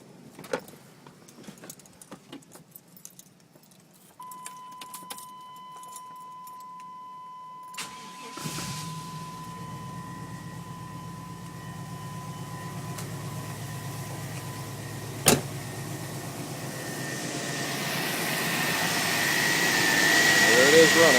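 A pickup truck with a 350 engine and MagnaFlow exhaust, just repaired, cranks and fires up after a quiet stretch, then settles into a steady running rumble that swells louder toward the end, close to the recorder.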